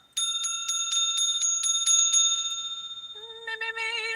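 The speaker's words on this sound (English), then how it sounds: "Let me ring the bell for us." A bright metallic bell rings in quick repeated strikes, then its pitch drops to a second, lower bell trilling briefly at the end, loud and close.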